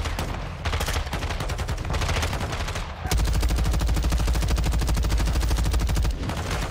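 Enemy gunfire in a video game rattles almost nonstop in loud, rapid automatic bursts, with a brief pause before a denser, sustained stretch of shooting.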